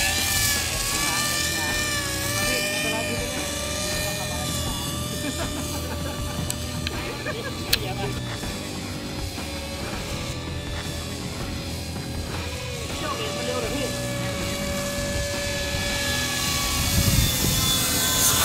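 A radio-controlled autogyro gyrocopter model flies outdoors, its rotor and motor giving a steady, loud, whining drone that holds throughout, with a faint click midway and a slight swell near the end.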